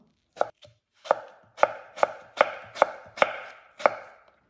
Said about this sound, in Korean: 사과 반쪽을 채를 썰어주세요